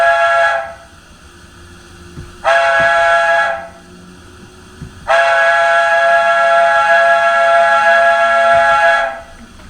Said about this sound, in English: So now I want to show you the playable whistle on Omaha.